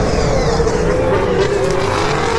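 Formula 1 race cars roar past trackside at Turn 11 during the 2019 race, a loud continuous engine drone with a sliding pitch and steady crowd-like noise beneath.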